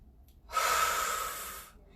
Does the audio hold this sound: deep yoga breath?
yes